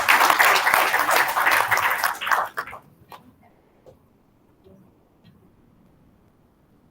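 Audience applause at a public policy forum at a university, a dense burst of clapping that fades out after about two and a half seconds, leaving near silence.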